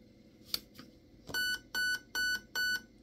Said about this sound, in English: three beeps is aug mode